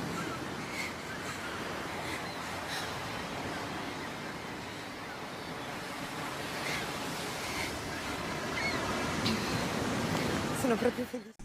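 Sea surf washes in steady and full in a film scene, broad and continuous with a little wind, building slightly louder toward the end.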